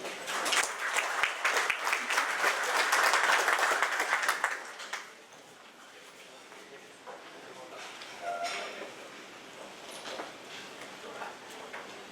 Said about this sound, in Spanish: Recibimos a nuestra panelista con un fuertísimo aplauso.